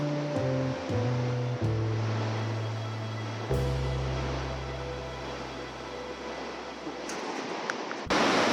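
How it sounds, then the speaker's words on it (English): The Snowy River rushes to join the Dart River in a New Zealand alpine valley, heard as a steady broadband roar of flowing water beneath a sustained musical backdrop of shifting tones. "Snowy River down here, and that's joining up with the Dart River."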